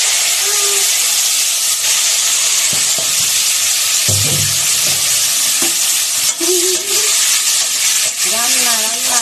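Vegetables sizzling and being stirred in a hot pan during home cooking of vegetarian dishes such as potato and eggplant fry: steady, loud frying hiss with intermittent scraping stirs and faint voices in the background.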